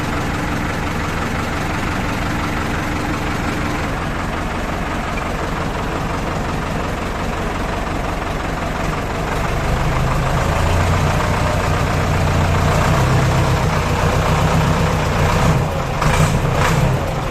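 A heavy diesel engine idles steadily with a low, rumbling knock, growing slightly louder and deeper partway through, with no talking.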